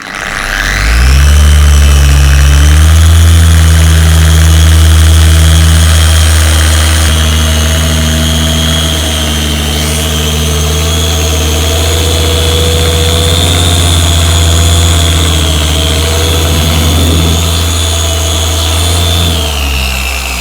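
Power buffer running at full speed on a scratched Technics SL1200 perspex lid, a loud, close, continuous motor whine with steady drone that spins up at the start, holds level, and slightly shifts in pitch near the end.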